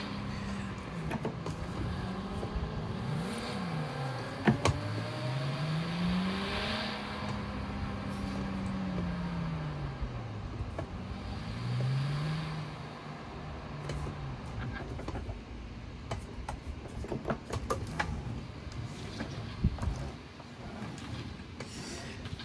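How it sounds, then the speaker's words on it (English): A 1995 Toyota Supra, the Paul Walker edition, drives in Forza Horizon 3 with a manual clutch, its engine note rising and falling through repeated rev sweeps and gear changes at moderate volume, with no talk. "Thank you guys for watching the 1995 Toyota Supra Paul Walker Edition"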